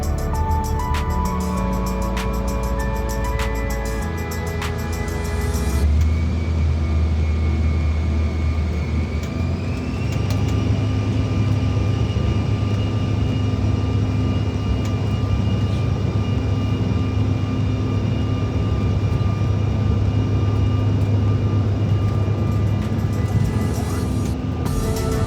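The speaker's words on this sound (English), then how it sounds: "we are pushed back from the stand and taxi our way out to the runway for takeoff" Airliner taxiing out at Aberdeen and taking off, a steady cabin-level engine whine and roar that swells as the jet spools up, with a low continuous rumble throughout.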